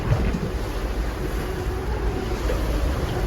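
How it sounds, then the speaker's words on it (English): Strong wind roaring across the microphone and big waves washing against a sailboat in rough weather, a dense, continuous rush that is loud and unbroken, with no talking. "we have really big waves because it's even coming inside"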